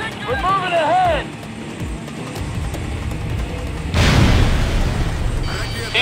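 A barricade blowing up in an Ace Combat helicopter mission flown in a Ka-50 Black Shark, a deep booming blast that rumbles on after a burst of radio chatter and engine noise, with a second loud surge near the end.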